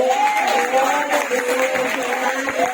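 Church congregation applauding during a service, a steady wash of clapping with a sung or spoken voice threading through, close and fairly loud throughout.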